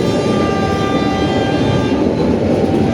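The Taksaka executive train rumbles loudly and continuously as it departs Tugu Yogyakarta station, with a sustained horn-like tone over heavy rail noise and no talking.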